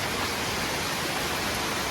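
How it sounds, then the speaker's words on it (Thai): Heavy rain pours down during the June rainy season in Thailand, a dense, steady broadband hiss that stays even and unbroken throughout, with no voices. "มาดูบรรยากาศฝนตกกันครับผม ตกแรงมากครับ"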